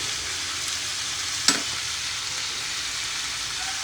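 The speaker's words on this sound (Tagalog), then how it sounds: "Gisa pa lang ng kalabasa." Kalabasa squash sautéing in a hot pan, a constant close sizzling hiss with one sharp clink of a utensil partway through; no talking.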